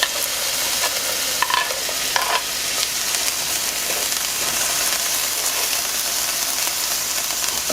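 Onions sizzling in canola oil in a pan over medium heat, a steady dense frying hiss that runs throughout, with faint stirring scrapes and no voices.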